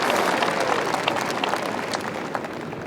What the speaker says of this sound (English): And you heard the cheer while Yu was hitting at 18